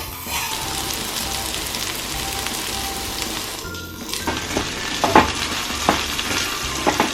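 Okra frying in a pan with extra oil added gives a steady, dense sizzle and crackle throughout, close and fairly loud, with several sharper pops and stirring scrapes toward the end and no talking.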